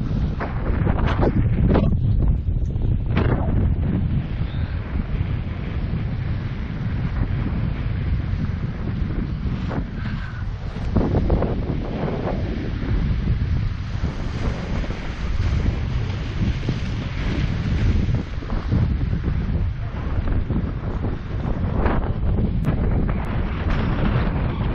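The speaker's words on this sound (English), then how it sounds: "so windy" Strong, steady wind buffets the microphone on a cold beach, a loud continuous roar with gusting rumble and possible surf beneath, sustained throughout with no clear talk.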